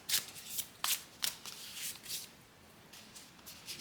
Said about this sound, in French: Allez, on va sortir deux cartes.